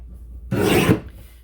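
A paper trimmer slices through two sheets of cranberry cardstock at once in a single quick rasping cut, about half a second long, close and clear in a quiet room.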